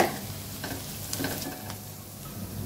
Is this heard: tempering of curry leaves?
yes